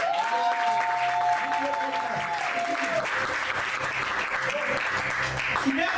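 An audience at a church prayer gathering applauds steadily and enthusiastically, praising the Lord, with a sustained voice or tone running through the clapping for the first half.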